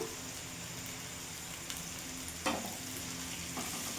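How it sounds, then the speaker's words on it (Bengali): Potatoes with salt, turmeric and tomato fry gently in oil, giving a soft, steady sizzle with a few light utensil taps and scrapes, quiet and without speech. "এবার আলুটা একটু ভাজা ভাজা করে নেবো"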